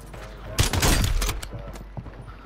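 Automatic gunfire in Call of Duty, a loud close burst of rapid shots lasting about a second, followed by a few faint scattered pops as it dies away.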